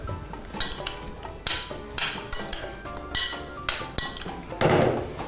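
A dressing made with olive oil being stirred in a bowl, with repeated clinking and scraping of a utensil against dishware in uneven bursts, close and fairly loud.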